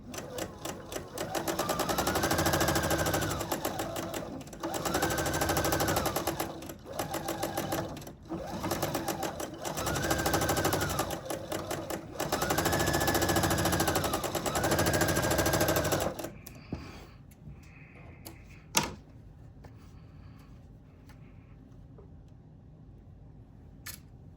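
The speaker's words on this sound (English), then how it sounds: "I'm going to sew a 1/4 inch seam." A sewing machine stitches a quarter-inch seam on a quilt block, running in rapid mechanical bursts with short pauses for about sixteen seconds before stopping, followed by quiet handling and a single click.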